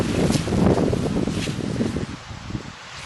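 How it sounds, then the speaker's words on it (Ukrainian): Strong wind blowing outdoors around a vineyard, loud gusty rushing and rustling noise that swells and fades over a few seconds, with no talk. "Сьогодні дуже сильний вітер."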